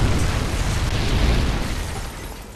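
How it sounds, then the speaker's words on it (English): A Predator missile strike in the video game Modern Warfare 3 lands as a loud, broad, rumbling blast that roars steadily and then slowly fades over a couple of seconds. "Friendly Predator missile inbound."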